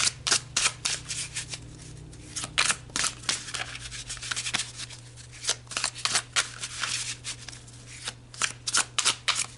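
Tarot cards are shuffled up close in quick, repeated riffling bursts, crisp papery flutters coming in uneven rhythm with short pauses between rounds.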